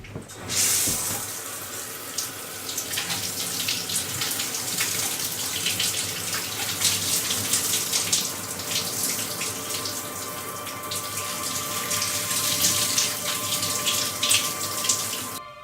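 Shower water runs steadily for a long stretch, a broad, close hiss of spray that starts abruptly and stays fairly loud and even, swelling slightly toward the end.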